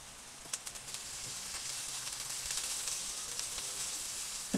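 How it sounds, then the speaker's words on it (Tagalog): Onion and garlic sautéing in a pan for pork adobo sa gata give a faint, steady sizzle with a few light crackles, heard close and alone. "Ang bango ng ating ginigisa na sibuyas at bawang."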